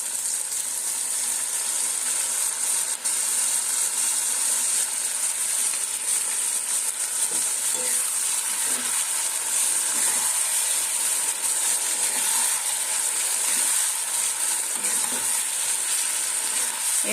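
Marinated chicken for kala bhuna fries in oil with soy sauce and a little sugar, a steady close sizzle with scattered stirring scrapes and hiss throughout, with no talking.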